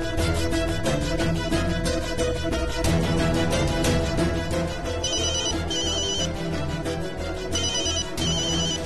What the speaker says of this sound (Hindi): दिवांश दा फोन।